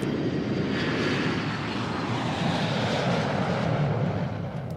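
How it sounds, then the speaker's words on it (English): An airplane lands in Denpasar after a long flight from Los Angeles, with a loud, steady engine roar that holds without a break, and no one talking. "The plane lands in Denpasar after a 24-hour flight from LA"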